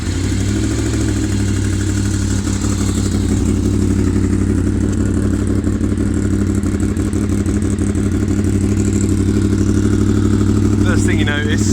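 A Honda VFR 750 motorcycle engine starting and running with a steady, clattering idle, loud and close, holding an even rhythm throughout.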